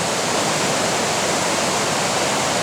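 A river flows beside a campground on the Superior Hiking Trail in Minnesota, a constant loud rush of water heard up close with no voices.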